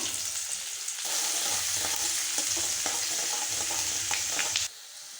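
Garlic and crushed curry leaves fry in hot oil for a Tamil wedding-style non-vegetarian kuzhambu, giving a steady close sizzle with scattered crackles and occasional stirring scrapes. The sizzle drops off sharply just before the end.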